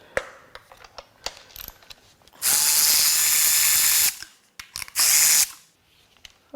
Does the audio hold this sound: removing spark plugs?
yes